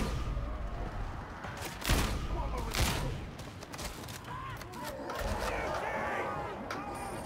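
Gunfire in Warhammer 40000 Darktide during an endless horde mission: rapid bursts of shots with a couple of heavier bangs amid chaotic combat noise, as a player talks over the action.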